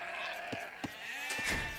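Age of Empires sheep bleat in short, quiet game calls over a low in-game background, a few brief bleats close together with no talking.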